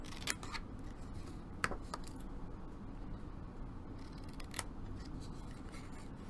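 Scissors snip a few pieces off the edge of a paper calendar, giving several crisp, close cuts spread through a quiet room with a low background hum.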